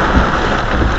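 Steady rain falling around a family car on a road trip to Baguio, a dense broadband hiss that stays loud and even throughout with no voices.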